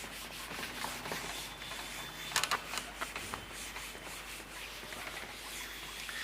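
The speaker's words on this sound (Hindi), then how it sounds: "चलिए मैं इसको रब कर देता हूं।" An eraser rubs across a classroom board to wipe off writing during an English grammar lesson, a steady, scratchy swishing of repeated strokes with a few sharper scrapes midway, close and moderately loud.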